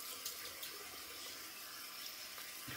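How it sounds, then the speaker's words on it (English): A bathroom sink faucet runs steadily as a washcloth is rinsed under cold water, producing a constant close splashing hiss with small irregular spatters and no voices. "So this is warm water in the washcloth, but I just turned the sink to cold to get that cooler."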